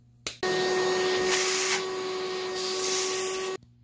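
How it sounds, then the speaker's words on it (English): A belt sander grinds a wooden musky lure made of two epoxied wood pieces, a steady loud whir running about three seconds before stopping, with no talking. "I got this belt sander for Christmas, and this bad boy eats wood like a beast"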